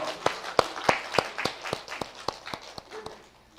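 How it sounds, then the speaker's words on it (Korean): A church congregation claps in welcome for a children's praise team at a Sunday worship service, a steady run of sharp, evenly spaced claps, moderately near and alone without talk. "자, 우리 박수로 환영하겠습니다"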